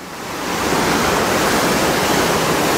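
The Co River on Mount Hood's Timberline Trail rushing steadily past nearby, a loud, dense, unbroken roar of water that swells in the first half second and then holds level, with no voices.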